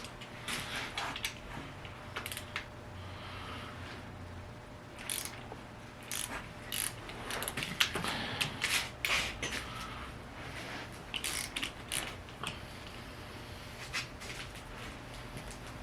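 A ratchet loosens the connecting rod bolts on a 45-year-old Porsche 924 engine, giving close, sharp clicking and ticking in irregular bursts with metallic tool clatter and brief pauses.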